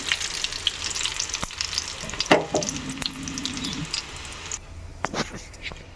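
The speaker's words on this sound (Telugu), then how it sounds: "ఇక్కడ పోపు పెట్టుకుందాం అన్నమాట" Cumin seeds and other tempering spices frying in hot oil for sambar, a steady crackling sizzle close by with a few sharper pops, no talking.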